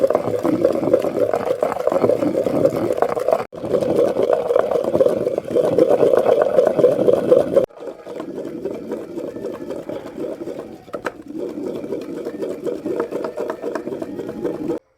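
Almonds ground by hand with water into a paste for thandai, a continuous rhythmic rubbing and grinding with wet churning, briefly pausing twice and then going on more softly.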